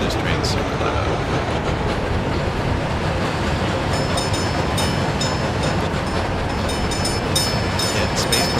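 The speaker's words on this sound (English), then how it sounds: "I know this train's super loud." A loud, constant train rumble from the simulation game Workers and Resources, with dense rolling wheel noise and faint clicking and squeaks running steadily throughout, with no break.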